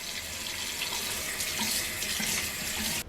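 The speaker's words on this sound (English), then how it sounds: "Just let some hot water run for a bit." Hot water running from a kitchen tap into a sink drain, a steady close hiss and splatter that holds evenly before cutting off abruptly near the end.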